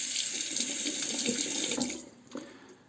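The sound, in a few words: safety razor rinsed under running tap water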